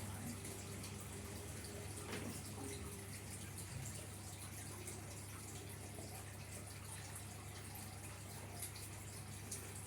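Tap water runs steadily into a bucket for a weekly aquarium water change, a quiet continuous splashing rush with a low hum underneath and no talking.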